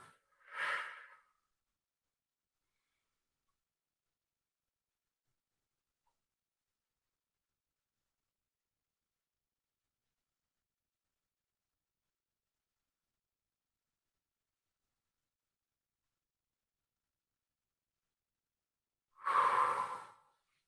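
Slow, deep yoga breathing, one audible breath near the start and another near the end, soft and close with long silence between.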